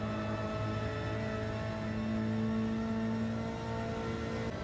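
A race car's engine in Gran Turismo 7 holds a steady, tonal drone under full throttle. It sounds faint and even, with no voices.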